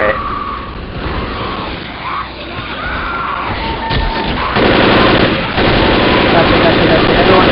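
A pipe bomb explodes amid the roaring, continuous gunfire of a Left 4 Dead survival round at a construction site, with loud dense blasts building toward the end under players' talk.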